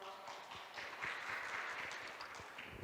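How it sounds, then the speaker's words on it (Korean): An audience at a statistics workshop gives brief, faint, distant applause that sounds like a soft, steady patter of clapping. "큰 박수 주세요."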